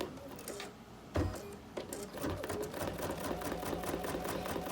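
A home embroidery machine stitches a basting box, giving quick rhythmic mechanical clatter that pauses briefly at a corner before resuming, close and fairly quiet with no voices.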